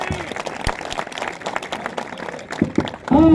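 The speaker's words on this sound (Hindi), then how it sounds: "तालियों से स्वागत बधाई।" Crowd at a village ceremony in which a car is presented clapping in scattered, uneven bursts, fairly close, with voices and a loudspeaker mixed in and a louder surge near the end.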